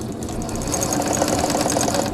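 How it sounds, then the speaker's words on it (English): Sewing machine running steadily while top-stitching orange ostrich upholstery on a motorcycle seat, a continuous close mechanical whir with rapid needle chatter, no voices. "We're gonna give it a top stitch for strength once I sew them."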